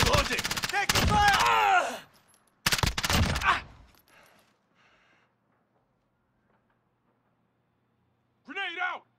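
Gunfire in Modern Warfare crackles in two dense, loud bursts of rapid shots, then falls to near silence before a short voice callout near the end.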